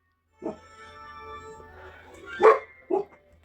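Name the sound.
dog barking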